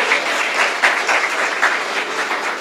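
A church congregation claps together in a dense, steady burst of applause, fairly loud and close, with no talking over it.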